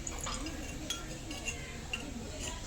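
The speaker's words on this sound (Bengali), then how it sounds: "এবার হালকা একটু ঢাকা দিয়ে দেবো।" A lid goes onto a tiny miniature frying pan of heating oil with a few faint, light metallic clinks and taps over a soft, steady background hiss.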